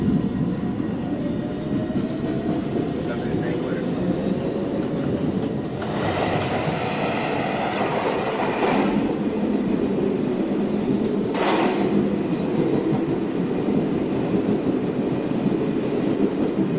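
A Manhattan-bound New York City subway 1 train running, a loud continuous rumble and clatter of wheels on track with brief squealing bursts, heard from inside the car.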